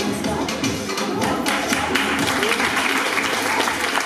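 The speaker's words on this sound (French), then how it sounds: "Un applaudissement pour elle." An audience at a recycled-clothing fashion show applauds a model on the runway, brisk clapping mixed with taps and thumps, fairly close and loud, with some voices mixed in.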